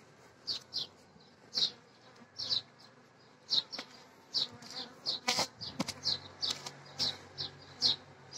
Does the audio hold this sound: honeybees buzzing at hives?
yes